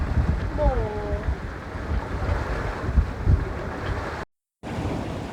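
Sailboat running at 7.5 knots through waves on a passage from Dominica to Guadeloupe, heavy rushing wind and water noise throughout, with a brief creak and a short dropout near the end.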